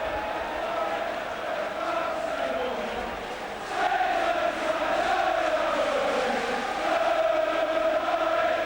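Football stadium crowd at a Third Division play-off final replay between Swindon Town and Gillingham, a loud continuous roar and chant swelling midway and holding steady, with no talk over it.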